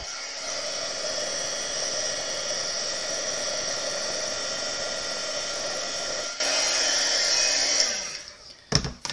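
An embossing heat tool blows hot air over cardstock, a steady close whooshing hiss that runs for several seconds, shifts briefly, then cuts off with handling clatter at the end.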